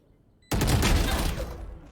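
Sudden loud burst of rapid gunfire in a competitive shooter video game match landing a headshot, erupting after brief quiet and ringing out for over a second.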